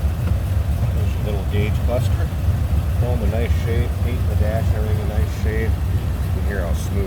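A 1928 Ford Model A Roadster Pickup engine idles with a smooth, steady low rumble close by, while someone talks over it.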